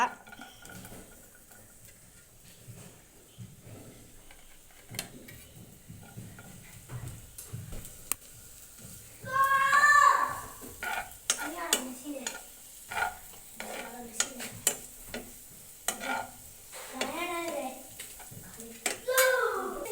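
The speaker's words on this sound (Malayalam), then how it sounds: "ഇതിനകത്തേക്ക് നമ്മൾ വെല്ലുള്ളി ഇട്ടിട്ട് 2 സവാള ഇട്ടിട്ട് വഴറ്റിയെടുക്കുക" Garlic and onions being sautéed in coconut oil for a beef curry: a quiet sizzle, scattered utensil clinks against the pan and stirring scrapes, with someone speaking over the cooking.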